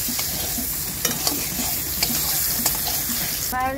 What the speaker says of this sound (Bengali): পটল পোড়া পোড়া ভাজা।